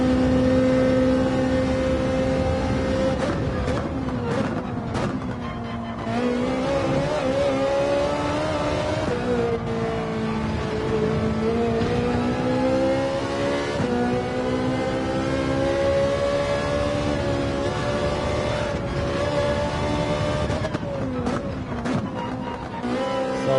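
A race car engine in Gran Turismo 7 roars continuously through a fast lap, revving high and shifting pitch up and down with gear changes, loud and sustained without pause.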